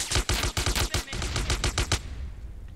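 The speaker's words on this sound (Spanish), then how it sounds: "Escucho disparos." Gunfire in the video game GTA San Andreas: a rapid burst of about a dozen sharp, evenly spaced shots lasting roughly two seconds, loud and close, then cutting off to a faint background hum.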